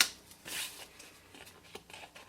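Card stock for a candle box bag being trimmed with a quick cutting stroke, followed by light paper handling and small rustles, close and quiet with no talk.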